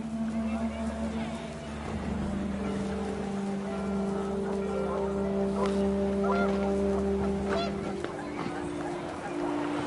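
Panicked geese honking in the video game What Remains of Edith Finch, a steady run of loud nasal honks over wind and low ambient drone, with a narrator talking alongside.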